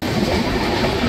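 A 12664 Howrah SF Express, travelling in a 2AC coach between Tiruchchirappalli and Howrah, rolls along the rails with a steady, close, broadband rumble and faint wheel clatter throughout, with no talk.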